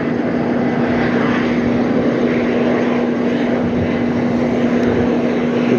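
A jet airliner at Las Vegas airport on a windy day holds a steady, loud engine drone with a constant whine running through it, continuous and close, with no voices.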